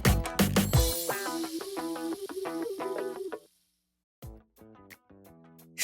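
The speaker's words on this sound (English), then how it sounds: "That's the sound of me sticking my broadsword into the ground" Steel broadsword driven into the ground: a sharp, loud impact with gritty scraping, then metallic ringing tones that fade out, followed by a few fainter ringing notes.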